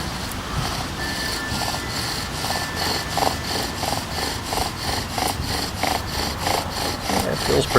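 A silverleaf maple bow drill being worked for friction fire, with rhythmic back-and-forth rasping strokes of the spindle grinding in the wooden board, steady and close.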